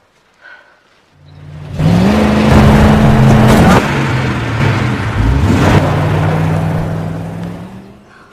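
A car starts up and pulls away, its engine rising into a loud, steady revving roar that holds for several seconds before easing slightly, with no talk over it.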